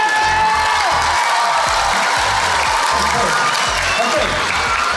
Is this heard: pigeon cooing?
no